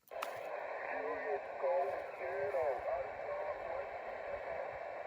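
Amateur radio reply from a Japanese station on the 40m HF band, heard through a receiver on a Snowy Mountains summit: a faint, noisy voice hisses and warbles under static for the whole stretch.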